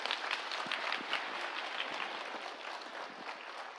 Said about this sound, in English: Let us give a big clap for our artists who have performed today.